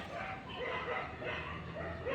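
A dog barks in a garden with a few short, close yips and bow-wows over a steady outdoor background hum.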